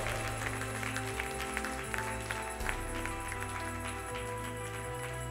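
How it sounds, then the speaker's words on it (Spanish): A church congregation at a Spanish-language service claps together in a dense, steady patter of applause lasting several seconds, with music and voices faintly underneath. "Dele un aplauso al Señor con todo su corazón."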